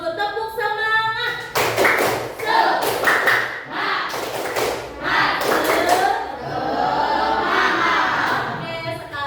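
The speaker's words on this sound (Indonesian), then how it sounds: "Sebelum ke video, kita tepuk semangat dulu. Tepuk semangat." A classroom group performs a rhythmic spirit clap, sharp bursts of clapping in a patterned beat mixed with chanting voices, loud and close, with brief pauses between the clapping phrases.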